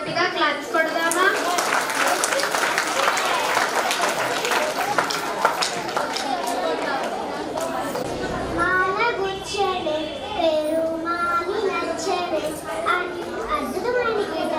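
A Sankranthi kids' event where the audience claps loudly in a dense, sustained burst. Children's voices and chatter mix in under the applause, and the clapping keeps going through the clip.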